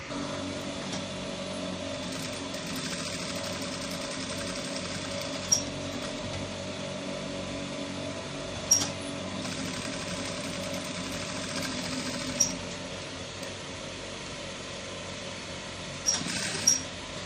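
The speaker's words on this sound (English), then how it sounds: "we now go to our sewing machine and we now sew this round" A sewing machine hums steadily with a fast mechanical chatter throughout, broken by a few sharp clicks and taps, with no voices.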